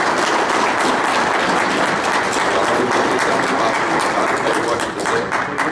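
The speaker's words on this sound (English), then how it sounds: "But I'd like a big round of applause." Sustained, loud applause from a seminar audience honouring an award, dense even clapping filling the whole stretch without letting up.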